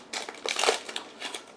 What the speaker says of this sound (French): Je suis en train d'ouvrir le premier booster.